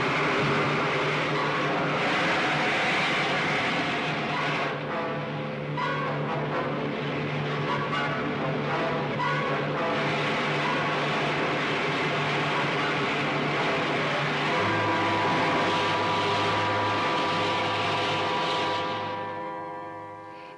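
Aircraft engines run at takeoff in an old film serial, a loud steady drone with humming engine tones that shift pitch partway through and then fade away at the end.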